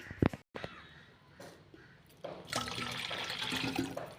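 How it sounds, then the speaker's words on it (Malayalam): Half a litre of water poured into a container while mixing a papaya-sap pesticide spray: a few faint knocks and handling sounds, then a loud, steady close pour splashing in for the last two seconds, with no talking. "ഒരു അര ലിറ്ററും കൂടെ ഒഴിക്കുക"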